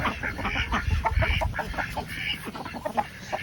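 Several roosters on a crowded backyard farm cluck and squawk close by in overlapping bursts, with scuffling from birds fighting over hens and no talk.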